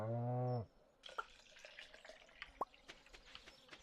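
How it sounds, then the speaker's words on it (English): A cow in the farming video game Stardew Valley lets out one loud, drawn-out moo, followed by quiet game ambience with soft clicks and small chimes. "Go say hello to our moo-moos."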